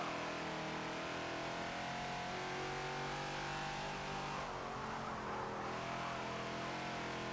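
Ford Falcon XB race car engine in a Forza racing game at Sonoma, a steady droning mid-pitched engine note that eases briefly as the throttle lifts, moderately faint with no voices.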